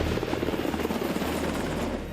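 A Coast Guard H-60 Jayhawk helicopter, its rotor and engine making a steady, loud, dense roar with rapid blade chop and no talk.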